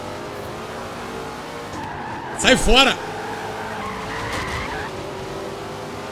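A Dodge Dart skids in Forza Horizon 4, giving one sharp tire squeal of about half a second over a steady engine drone, while someone talks around it.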